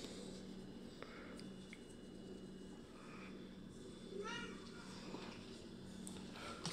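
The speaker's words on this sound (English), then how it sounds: "Franklin Farm Cat." Farm cat meowing faintly a few times outdoors, short high mews scattered over a quiet background hum, with brief low talk nearby.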